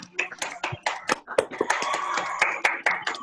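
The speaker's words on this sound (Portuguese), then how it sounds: "Eu acho que a gente podia bater palmas para o Wanderson também." Clapping for Wanderson at a public-health lecture, sharp irregular hand claps from a few people close by, scattered through the clip with voices talking over them.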